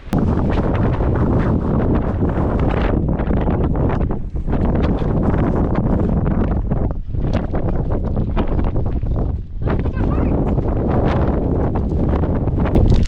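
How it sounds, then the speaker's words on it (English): Strong, steady wind roars and buffets the microphone on an exposed mountain summit along the Crawford Path in the Presidential Range, loud and continuous with brief lulls between gusts. "getting a little sick of this wind"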